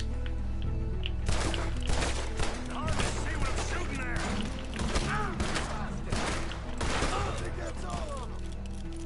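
Steady volleys of gunfire crack through a Red Dead Redemption 2 shootout, dense and rapid shots layered over a droning background, with voices speaking in between.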